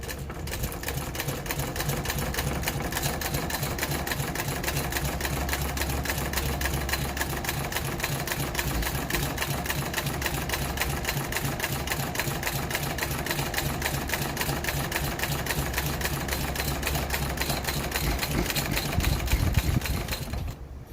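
A sewing machine stitches a Civil War valise, its needle chattering in a fast, even, continuous rhythm that stays loud and close throughout, with no speech.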